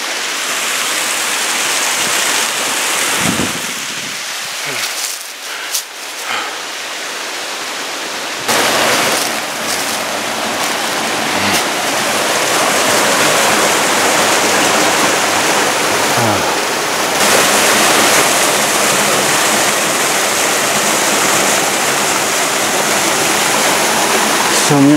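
Lewis Falls, the second waterfall on Soldier Creek, roars as a steady broadband rush of falling water, growing louder and fuller as the listener draws near, with brief handling noises early on.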